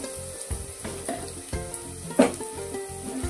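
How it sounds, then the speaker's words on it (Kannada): Peanuts fry in hot oil for a poha tempering, a steady close sizzle with rhythmic crackling bursts and a louder spit near the end, with no voices. "ಇಲ್ಲಾಂದ್ರೆ ಈ ತರ ಒಗ್ಗರಣೆ ಹಾಕುವಾಗ ಫ್ರೈ ಮಾಡ್ಬೋದು"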